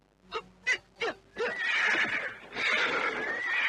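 Horses pulling a cart neigh and whinny in several short, close calls, then break into a longer, louder drawn-out whinny at a street crossroads.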